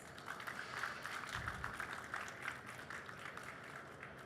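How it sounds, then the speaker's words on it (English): Quiet, steady applause from an audience at a film industry conference session, a continuous patter of many hands clapping at a distance for several seconds without a break. "please give them a huge round of applause"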